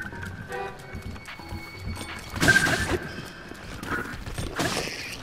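Mounted enemies' horses gallop in Zelda: Breath of the Wild, giving steady hoof clip-clop beats with a whinny, game effects and combat noise layered over them, rising louder toward the middle of the stretch.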